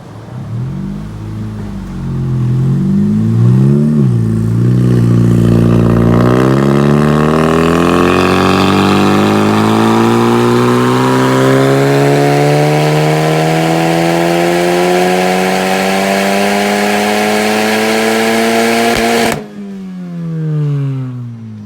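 A Honda Civic Type R with an aftermarket downpipe does a dyno run, its engine rising steadily in pitch through the gears as it revs hard and loud, then cutting off abruptly near the end.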